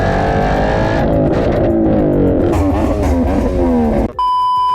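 A Ford Mustang Coyote V8 engine roars loudly and climbs through the revs as it accelerates hard at a drag race, then cuts off abruptly, leaving a high electronic tone.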